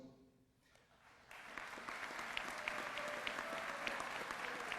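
At a NYC Sanitation graduation and promotion ceremony, the crowd breaks into applause for the instructors, starting after a quiet moment and swelling into a sustained, even clapping across a large room.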